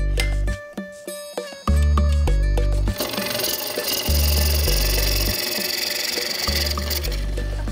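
A wood turning tool cutting into a spinning self-closing hollow form as shavings fly out, with sharp scraping bursts and hard ticking hits broken by short gaps, then a dense continuous cutting roar.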